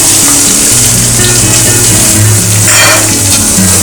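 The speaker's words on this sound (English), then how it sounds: "When it gets hot, we will add the onions, which I have cut into small pieces." Small-cut chopped onions fry in hot oil, making a loud, steady, dense sizzle that stays up close and fills the whole moment without any talking.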